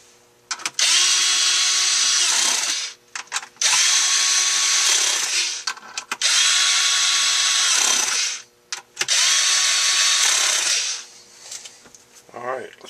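A power tool drives bolts back into an AGM battery bank in four sustained loud whirring bursts of about two seconds each. Short pauses and clicks separate the bursts, and the tool is close and dominant.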